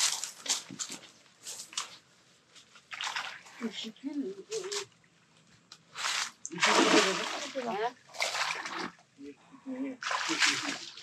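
Footsteps wading through water, with repeated splashes and sloshing bursts that rise and fall across the stretch, close by and mixed with people talking over them.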